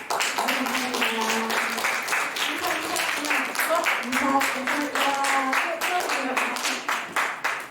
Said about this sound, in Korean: 여러분이 시상하면 박수 쳐주셔야 돼요